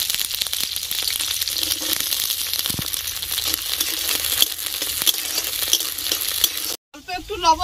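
Yardlong beans and peas fry for a vegetable paratha, giving a close, crackling sizzle with some rustling stirs. It stops abruptly near the end, and a brief voice follows.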